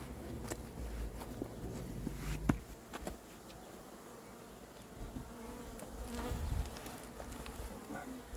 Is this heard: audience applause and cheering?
no